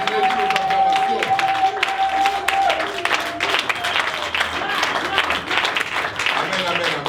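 A church congregation applauds and cheers in a dense, steady wash of clapping and voices that holds at full loudness throughout, with a faint sustained tone underneath.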